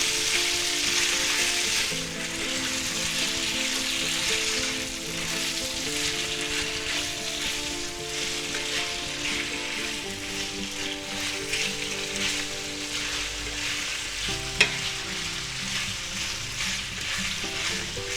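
Pork and vegetables sizzle hard in a stir-fry pan, a loud, dense, close crackle that holds steady throughout, with one sharp tap near the end.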